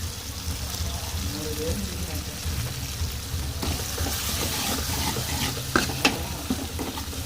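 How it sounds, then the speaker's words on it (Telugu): Tomato gravy for chicken curry sizzles in a pan while being stirred, a continuous close frying hiss with scraping spoon strokes and a few sharp clinks toward the end. "బాగా టమాటా ముక్కలు పట్టేంత వరకు కలిపేసుకోవాలి"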